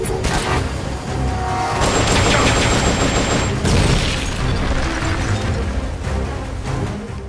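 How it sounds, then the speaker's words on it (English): Continuous gunfire and explosions in the stealth-action game Metal Gear Solid Peace Walker HD, a dense, clipping wall of blasts and rattling shots with a sustained high tone partway through, loud throughout. "Just clipping and the sound of gunfire and explosions."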